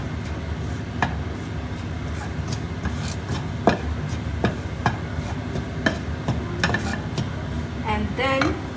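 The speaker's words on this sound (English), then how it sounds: "I'll be just beating this curd so that there should not be any lumps" Curd is beaten in a bowl with irregular taps and scrapes over a steady low kitchen hum, moderately close, with a brighter clatter near the end.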